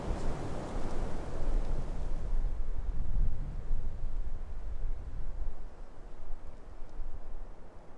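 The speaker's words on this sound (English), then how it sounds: "it's just getting blasted wind" Strong wind on an open hilltop buffets the microphone in a constant low roar, gusting louder and softer, with no voices.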